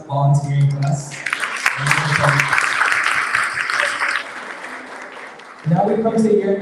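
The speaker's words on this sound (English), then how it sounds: "Please give one more round of applause to the volunteering class." Audience at a graduation ceremony breaks into several seconds of steady, moderately loud clapping between stretches of a speaker talking.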